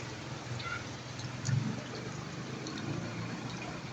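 Steady rain falls during a flood at a house in La Residencia, Kalumpit, a constant close watery patter with occasional drips and one brief louder splash near the middle.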